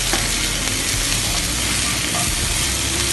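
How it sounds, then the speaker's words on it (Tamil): Tomato frying in a pan, a dense, continuous loud sizzle and crackle of hot oil close up, steady throughout without any voices. "தக்காளி தக்காளி போட்டுக்கணும். நல்லா ஃப்ரை பண்ணுங்க."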